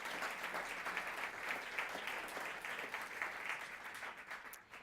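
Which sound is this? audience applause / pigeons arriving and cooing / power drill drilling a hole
audience applause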